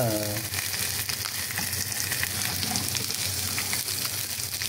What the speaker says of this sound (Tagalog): Inihaw sa kawali na isdang makrel.